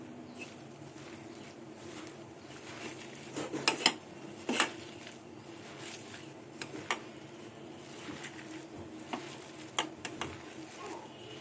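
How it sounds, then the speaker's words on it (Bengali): Hand-mixing jute leaf and poppy seed fritter batter in a bowl, with soft wet squelching and scattered clinks against the bowl, a few louder knocks in the middle, close and fairly quiet. "এই সব কিছু দিয়ে ভালো করে মেখে নেব।"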